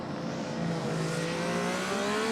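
A Formula Student race car from the Huddersfield team passes on a UK competition circuit, its engine note rising steadily in pitch as it accelerates, loud and close, with a broad rushing roar and no talk.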